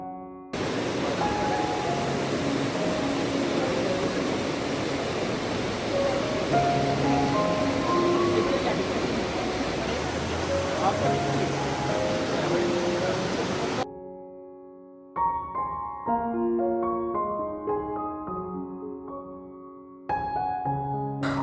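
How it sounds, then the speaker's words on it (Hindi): Cold river water rushes past a riverside cottage in Khai, Gilgit, a steady broadband wash for most of the stretch before cutting away to quieter passages with tonal sounds. "साथ में पानी की इतनी खूबसूरत आवाज़ है"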